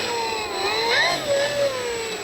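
The electric motor of a Dynam F6F Hellcat RC plane whines steadily, its pitch wavering and rising briefly as the motor spools, running close and fairly loud throughout.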